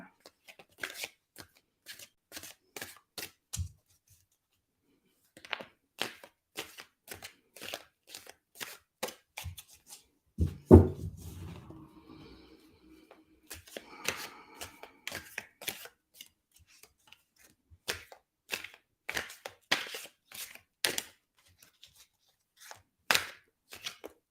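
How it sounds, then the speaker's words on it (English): Tarot cards are shuffled in repeated quick riffles and crisp snaps, close and clear, broken by pauses and a few louder clatters, while a person speaks between the bursts. "Now, when I shuffle, I'm using my gut to tell me when to stop."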